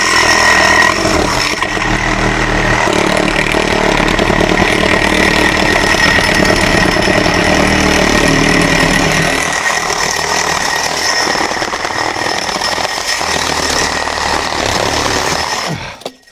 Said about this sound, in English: With their saw wrapped in a trash bag, they approach from behind the camera's line of sight and tear right through this black aluminum alloy post.